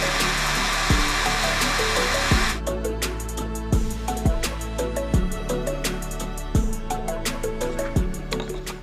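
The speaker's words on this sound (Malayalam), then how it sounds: "അതിനുശേഷം നമുക്ക് ഈ പീസ് അതിലേക്ക് സ്ക്രൂ ചെയ്ത് ഉറപ്പിക്കാം." A power tool whines steadily, then gives way to a string of sharp, regular knocks and clicks while a wooden piece is screwed into a handmade bamboo bicycle frame, all close and fairly loud.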